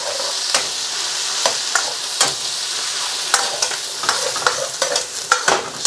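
Mixed vegetables with garlic and ginger are stir-fried in a little oil in a hot pan, giving a loud, continuous sizzle cut by frequent sharp scrapes and clanks as the food is tossed.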